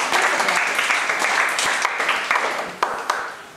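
An audience at a talk by a tech co-founder claps, dense continuous applause at a fairly strong level with a couple of sharper individual claps standing out toward the end.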